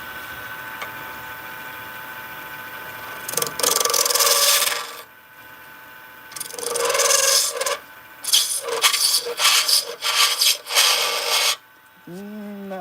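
Wood being cut by hand using a peel-and-cut technique, several loud rasping scraping strokes in bursts of varying length separated by short pauses, recorded close.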